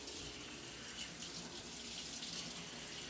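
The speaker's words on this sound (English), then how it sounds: "Let me wash the peanut butter off my hands." Tap water runs steadily into a sink for hand washing in a kitchen, a continuous close hiss with no pauses.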